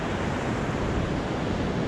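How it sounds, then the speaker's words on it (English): Small Pacific Ocean waves wash steadily onto a rocky beach, a continuous close roar of surf with light wind noise and no distinct breaks between swells. "The waves are kind of small today."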